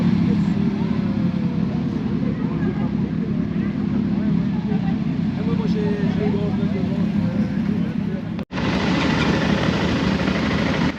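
Motorcycle engines on a group ride at a motorcycle rally in Brittany, France, rumble in a steady, continuous low drone, close by and unbroken apart from one brief dropout near the end.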